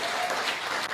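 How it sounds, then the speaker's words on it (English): Applause from the audience at a city's annual State of the City address, a brief burst of many hands clapping together, steady and fairly distant. "That's got to be worth a round of applause."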